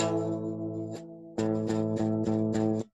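A guitar power chord strummed and held, then struck again with several quick rhythmic hits before cutting off, close and clear with no voices.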